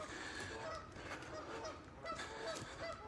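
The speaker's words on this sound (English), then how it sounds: "You can bugger off as well, you noisy buggers. Oh, geese." A flock of geese honks repeatedly outdoors, with overlapping calls in an uneven rhythm, moderately close and steady over a low background rumble, with no talking.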